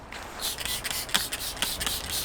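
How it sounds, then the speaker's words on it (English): Repeated bursts of a spray bottle of bike cleaner hissing out over a mountain bike in quick pumps, close and fairly loud, with short gaps between squirts. "spray that all over the bike"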